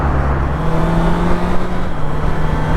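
Honda CBR650R motorcycle with e-clutch accelerating and shifting gears, a loud, close, continuous engine whir with slight dips where gears change, heard alone without talk.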